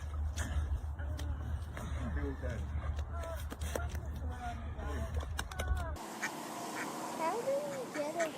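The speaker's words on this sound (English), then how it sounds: "At first, Mama Duck was not happy about a person coming so close to her duckling." A mother duck quacks repeatedly near her duckling, which is caught in fishing line on a branch, with close, insistent calls over a low rumbling outdoor background.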